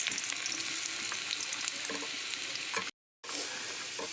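Chicken and chopped garlic frying in oil in a pan, a close continuous sizzle with a few stirring scrapes, briefly cut to silence near the end before the sizzling resumes, with no talking.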